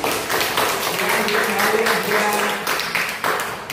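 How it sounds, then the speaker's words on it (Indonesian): A classroom of fourth-grade students applauds group 3, a dense burst of many hands clapping close by for several seconds before fading out. "tepuk tangan untuk kelompok 3"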